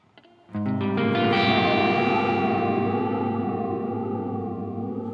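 A guitar chord struck through a Walrus Audio Slö multi-texture reverb pedal blooms into a long, loud wash that sustains alone, its pitch gently wavering in slow sine-wave modulation.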